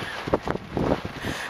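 Steady wind buffets a sailboat under mainsail and jib, a continuous broadband rush with gusty swells and low rumble against the microphone, no voices.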